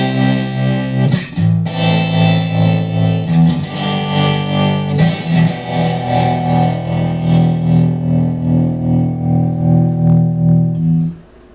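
Electric guitar through a Marshall Code 50 modeling amp on a Blues Breaker setting with tremolo plays loud, sustained overdriven chords and notes alone, ending abruptly.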